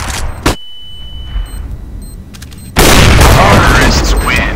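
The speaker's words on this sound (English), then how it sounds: "Throwing flashbang." A flashbang grenade goes off in a first-person shooter game, a sudden loud burst after quieter gunfire and game sounds, followed by a sustained harsh ringing roar that holds for the rest of the moment.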